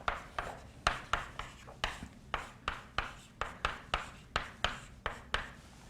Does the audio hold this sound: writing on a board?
yes